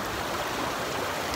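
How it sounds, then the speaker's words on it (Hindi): A waterfall of cold water at Harnoi Amusement Park in the mountains near Abbottabad makes a steady, close, continuous rushing roar, with no talking. "अबशार आपको दिखाते हैं"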